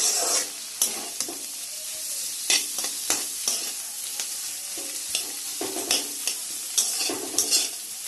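Onion and egg frying in hot oil while being stirred in a pan, a steady sizzle broken by repeated scraping strokes of the spatula at an uneven rhythm, close and fairly loud.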